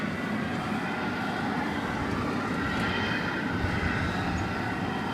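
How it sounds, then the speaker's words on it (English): A Delta jet arriving from Boston on approach to DFW Airport gives a steady, distant engine roar, an even broadband rumble with no other sounds over it. "watch a Delta flight coming in from Boston"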